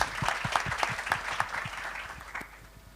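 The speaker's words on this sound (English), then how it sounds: "Round of applause" Audience applause at a startup expo panel in Yerevan: a small crowd claps in distinct, fairly sparse hand claps for about three seconds, steady and then thinning toward the end.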